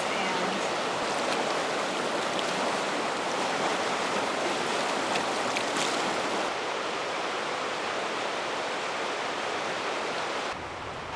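A river flows past a yard in a mountain town, a loud, steady rush of broadband water noise that runs continuously and cuts away abruptly near the end.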